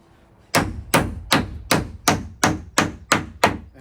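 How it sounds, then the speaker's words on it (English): Hammer blows drive nails into 2x4 lumber while framing a shed wall: eight sharp, evenly spaced strikes, loud and close, each ringing briefly before the next. "when you're nailing it together, don't just drive your nails straight down."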